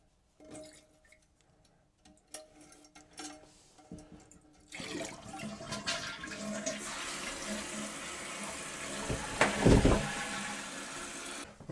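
A gravity toilet being repaired with a Korky universal kit starts with a few quiet clicks and handling sounds, then flushes with a loud, rising rush of water and keeps running as the tank refills.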